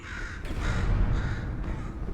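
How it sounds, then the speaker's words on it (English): Harsh, raspy caws from a crow-like bird in the Portal 2 video game, two or three rough calls repeating close by with a steady low rumble underneath. "Could you, murder this bird for me?"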